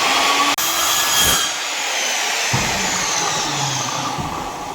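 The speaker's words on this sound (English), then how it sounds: "we're gonna cut into the floors, cut some slots in there" A power saw cuts slots into a hardwood floor during repair work, giving a loud, steady whine that changes pitch as the blade bites into the wood and then continues at a strained, even drone.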